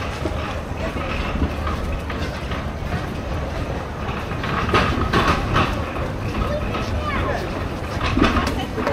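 The Subarno Express passenger train from Dhaka to Chittagong runs with a loud, steady rolling rumble and rhythmic clickety-clack of wheels over rail joints, while people talk nearby over the noise.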